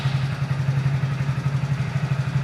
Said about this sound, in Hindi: अभी इंजन स्टार्ट करेंगे तो ये जो मैलफंक्शन लाइट है ये डिसअपियर हो जानी चाहिए